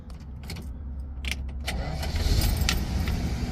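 Original Chrysler key jingles as it goes into the ignition of a 1965 Dodge Dart GT with dual Holley carbs and a factory four-speed, then the starter cranks and the V8 fires and settles into a loud, rumbling idle nearby.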